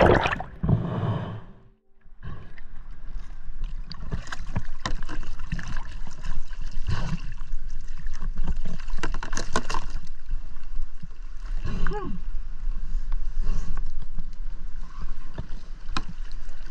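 A kayak sits on the water at night after a dive, with continuous close sloshing, dripping and paddle splashes that run steadily after a brief quiet dip near the start.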